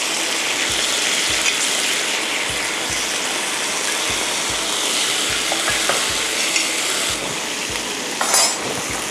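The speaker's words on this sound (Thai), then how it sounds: "แล้วก็ไข่ไก่ด้วยค่ะ" Egg stir-fried in a hot pan with pork and bok choy gives a loud steady sizzle, with rhythmic scraping and tapping of a utensil against the pan and a few clinks near the end, no voices.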